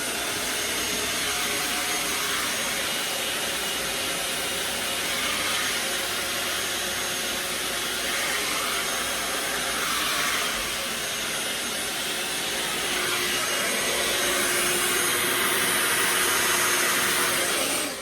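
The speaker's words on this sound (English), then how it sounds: "So I'm using my Artist Series Samvia blow dryer with his diffuser, putting it on high but using the cold shot button" An Artist Series blow dryer fitted with a diffuser runs on high with the cold shot button held, a loud, constant airy whoosh with a motor whine that dips slightly midway and then keeps going.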